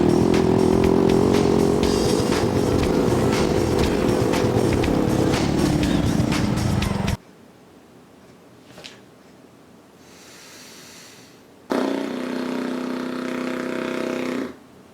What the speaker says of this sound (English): the bike sound effects don't really sound like motorbikes